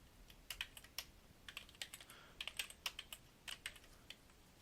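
Rapid typing on a computer keyboard, with irregular bursts of crisp key clicks and short pauses, close and fairly quiet, with no voices.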